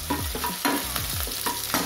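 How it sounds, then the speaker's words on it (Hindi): Onions frying in oil in a pan, a close, bright sizzle broken by a quick series of stirring scrapes and crackles in an uneven rhythm. "प्याज को भल भाव फ्राए कर"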